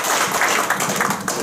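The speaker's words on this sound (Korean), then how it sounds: "네, 뜨거운 박수 한번 부탁드릴게요." An audience at a coaching workshop breaks into applause, a brief burst of steady clapping from many hands, fairly close and filling the room.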